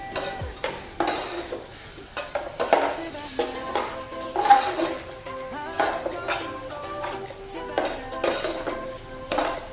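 Pork larb stir-fried in a pan until the liquid cooks off, with a utensil scraping and clinking against the metal in uneven strokes over a faint sizzle, fairly close and steady, with no talking.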